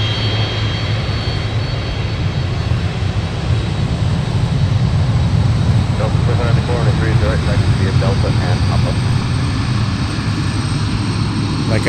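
A Delta airliner's engines roar steadily and loudly at MSP airport on a winter day, a constant broadband rumble with low droning hum throughout, while a voice talks faintly beneath.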